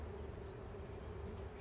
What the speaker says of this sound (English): I'm only seeing bees right here.